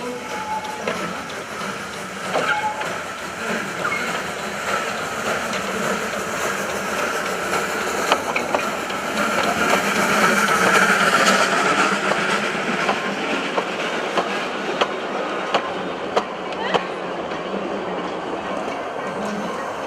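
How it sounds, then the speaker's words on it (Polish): A narrow-gauge (600 mm) train departs, rumbling steadily with a continuous mechanical drone and faint rhythmic clatter, holding a loud, even level throughout. "Pociąg z kolejną grupą podróżnych odjeżdżał znów do Kocika."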